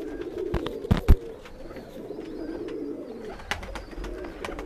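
Low, rolling coos from breeder pigeons in a loft, one brooding its chicks, run throughout at moderate loudness, broken near the start by a couple of sharp knocks.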